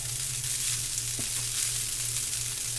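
Fried rice sizzles steadily in a frying pan, with a soft scrape of stirring near the middle; a continuous close, even frying hiss with no talk.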